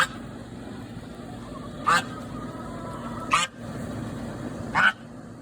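Three short, loud bird calls ring out at intervals over a steady background hum, like fowl squawking nearby.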